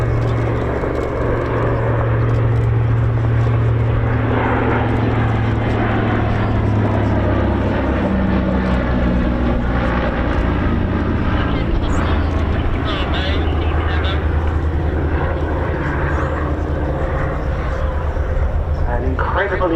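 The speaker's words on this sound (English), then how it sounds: "And we got a Catalina for you. This is a stunning, stunning aircraft." A Catalina twin-engine flying boat flies past at an air show, its engines giving a continuous droning rumble, while a commentator talks over it almost throughout.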